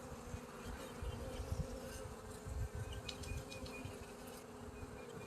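Honeybees buzz around an open hive while the queen is released, a steady, dense hum close by, with a few individual bees droning louder as they pass near.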